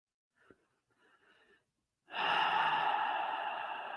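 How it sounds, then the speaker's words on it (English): Slow guided breathing: a couple of soft, faint breaths at first, then a long, loud, airy exhale that slowly fades over about two seconds, close to the microphone. "Breathing in and breathing out."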